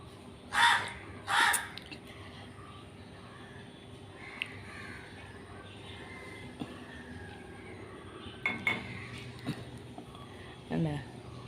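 Two loud crow caws near the start, then fainter caws later against a quiet outdoor backdrop with a low steady hum.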